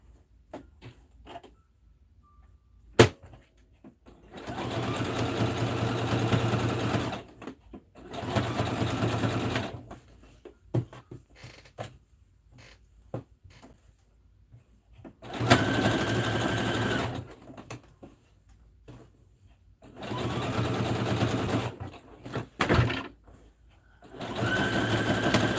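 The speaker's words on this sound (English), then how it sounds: "We'll back stitch at the beginning and the end." A sewing machine stitches a sweatshirt in several steady whirring runs of a few seconds each, separated by pauses with small clicks and handling noises, close and loud.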